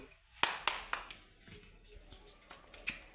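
A few hands clap in scattered, separate claps after a Pongal prayer at home, fairly faint with some background voices.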